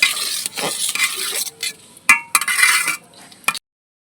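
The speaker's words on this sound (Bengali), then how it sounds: "এবার আবার নাড়া দিতে থাকবো" A spoon stirring khichuri with green chillies and salt in a metal pot, close scraping and clinking strokes over a soft sizzle, uneven in rhythm, ending abruptly in silence.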